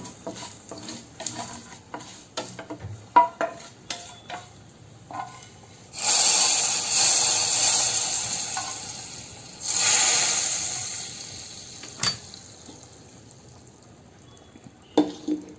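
Dried red chillies, cut and dropped into hot tempering oil, sizzle in two strong bursts amid scattered clinks and stirring scrapes of a pan.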